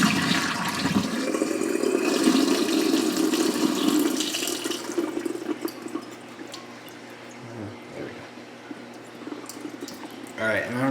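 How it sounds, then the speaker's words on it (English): Water splashes and gurgles loudly as it pours out of a sprouting jar, then drains to scattered drips and small trickles near a sink, with a brief clatter at the end. "pour out the last remaining water."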